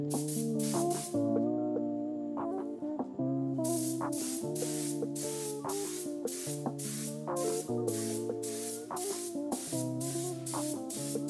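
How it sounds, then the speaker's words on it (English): A spray gun sprays resin in rapid, rhythmic hissing bursts, close up, over a steady humming tone from running equipment. "It looks like you can just spray it through the gun."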